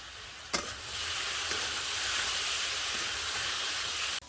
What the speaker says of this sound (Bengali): আলু ভাজা হয়ে গেছে, এবার আমি নামিয়ে নেব।